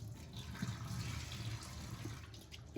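Salted fish is rinsed under a running tap, a steady close splashing of water with light sloshing from the food being washed, continuing evenly throughout without talk.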